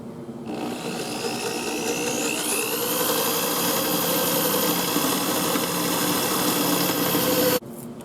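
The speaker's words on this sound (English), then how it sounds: "you might have to find yourself reversing the drill a couple times to get through cleanly" A drill boring through aluminum stock, a steady, loud motor whine with rising pitch as the bit cuts, running continuously for about seven seconds before cutting off abruptly near the end.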